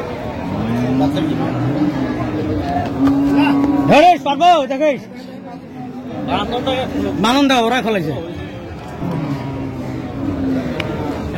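Dairy cows and calves moo loudly twice near the middle, long wavering calls over steady crowd murmur and bustle at Ambari cattle market in Dinajpur, Bangladesh.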